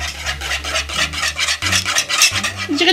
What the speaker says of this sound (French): Je vais fouetter pendant 2 minutes